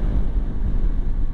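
Strong wind buffets the microphone during a motorcycle ride, a loud, continuous low rumble with gusty fluctuations and no voices.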